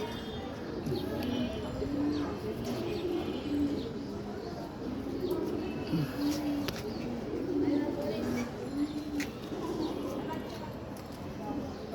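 Pigeons cooing outdoors in bright sun as young birds are let out, a steady layer of soft repeated coos with some light chirps, under someone talking.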